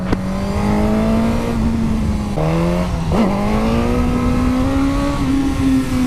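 Motorcycle engine on a race track, held at a loud, steady close drone, briefly dipping and rising again as the throttle opens and closes through corners.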